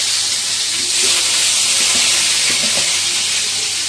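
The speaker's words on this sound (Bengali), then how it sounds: "আলুগুলো আমরা একটু ভেজে নেব" Potatoes frying in plenty of hot oil for a home-cooked biryani, a loud, dense, unbroken sizzle close up with faint bubbling pops underneath.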